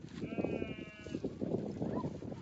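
Sheep bleat in a remote mountain pass, one drawn-out, wavering bleat near the start standing out over steady outdoor rustle and low background noise.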